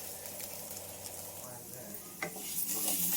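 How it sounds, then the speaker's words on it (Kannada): Chemmagadda (taro) pieces dry roast in a pan with a faint sizzle while a spoon scrapes and stirs them in brief bursts near the end. "ನೋಡಿ, ಈ ಥರ ಡ್ರೈ ರೋಸ್ಟ್ ಆಗಬೇಕು."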